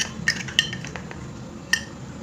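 Glass jar filled with green camphor having its lid closed, a few sharp, clinking glass taps with one louder knock, close and alone in a quiet room.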